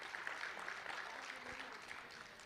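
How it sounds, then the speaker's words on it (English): Applause for the SG at a live SANTACO event, a steady wash of clapping from a crowd lasting throughout, moderately loud with some voices mixed in underneath. "Please give the SG a round of applause"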